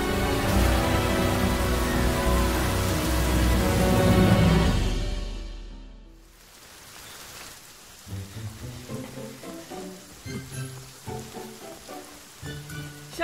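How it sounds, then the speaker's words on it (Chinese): Sudden heavy rain roars as a loud, dense downpour that swells and then fades away, leaving quieter sounds and music behind it. "下雨了！下雨了！"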